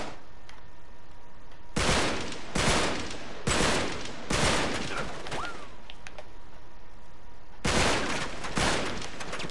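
Bursts of AK rifle fire in the video game Uncharted 3, four or five loud volleys of rapid automatic shots separated by short pauses, standing clear of any talk, with a faint tone sweeping through the middle.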